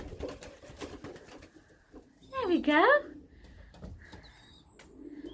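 Pigeons coo in a brief burst nearby, with a person talking quietly before and after.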